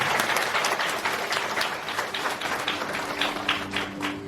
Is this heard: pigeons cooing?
no